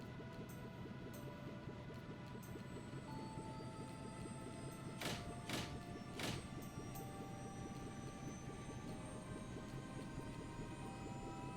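A Royal Guard warship, the Atsara, lifts off in a video game with a steady low engine rumble, layered with faint high tones and a few loud bright bursts in the middle.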